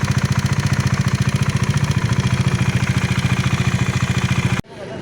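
Bajaj Dominar motorcycle engine running at cruising speed near 125 with a changed, faulty note: a loud, steady rapid pulsing throb with mechanical clatter that cuts off abruptly near the end.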